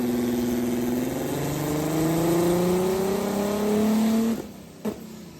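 VW Caddy sleeper engine revving on a dyno with a crank sensor fault, a steady rising drone climbing in pitch for several seconds, then cutting off abruptly, followed by a short thump.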